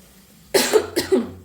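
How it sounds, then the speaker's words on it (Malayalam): Two close, loud coughs a moment apart, set off by the pungent smell of masala while a curry gravy cooks, with near silence before and after. "മസാലയുടെ മണം കൊണ്ട് ചുമ വരുന്നുണ്ട്"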